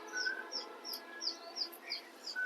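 Young racing pigeons from a famous club line chirp in a series of short, high, thin peeps repeating at a quick, uneven pace, fairly close against a low steady background hum.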